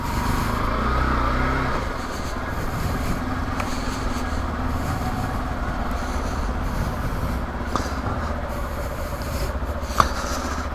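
A Hero XPulse 200 BS6 motorcycle rides through city traffic, its engine a steady low drone under continuous road and wind noise, with a brief louder rumble at the start and a sharp knock near the end.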